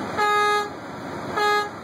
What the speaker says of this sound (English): now we'll go back to our air horn